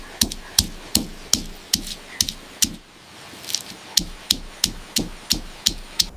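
Chilies and garlic are pounded in a mortar for a northern Thai cabbage dish, with sharp, regular thuds coming about three times a second. The pounding pauses briefly midway, then resumes at the same close, even pace.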